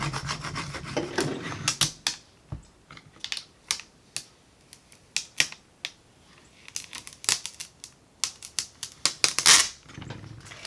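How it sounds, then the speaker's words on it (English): Vinyl on transfer tape being rubbed onto a Dollar Tree wooden craft, close bursts of scraping and rasping strokes in irregular clusters, separated by brief pauses. "I'm going to just rub this on."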